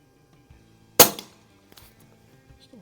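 A single sharp shot from an Umarex Notos air rifle firing an H&N Barracuda 18 pellet at an outdoor range, loud and close, followed by a faint distant impact and quiet background.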